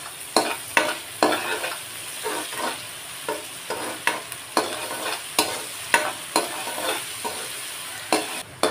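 Onions sauté with salt in a pan for a ridge gourd gravy, sizzling steadily under rhythmic spatula strokes that scrape and clack against the pan roughly twice a second, close and clear.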